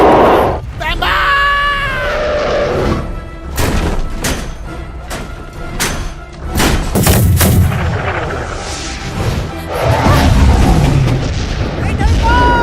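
Cannon blasts and gunfire crash through an animated pirate-style sea battle, with repeated sharp booms and explosions over a dense, loud score, while characters shout and scream between the shots.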